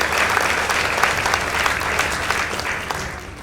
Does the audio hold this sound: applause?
yes